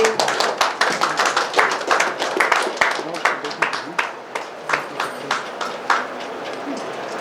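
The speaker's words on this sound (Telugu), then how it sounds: "అందరూ ఒకసారి క్లాప్ ఇవ్వండి" Audience clapping at a 75th birthday felicitation ceremony, a steady run of sharp, close handclaps with a few voices murmuring underneath.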